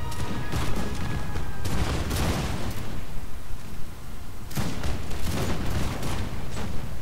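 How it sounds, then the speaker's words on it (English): Dense, continuous video game musket fire from a Napoleonic battle crackles and pops throughout, with overlapping volleys and booms forming a loud, sustained battle din. "A lot of gunfire, lots of puffs of smoke."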